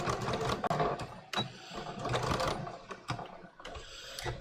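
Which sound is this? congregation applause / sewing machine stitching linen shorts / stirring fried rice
sewing machine stitching linen shorts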